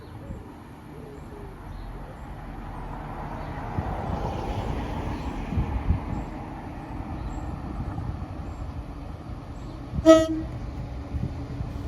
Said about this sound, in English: Lovely toot from the driver there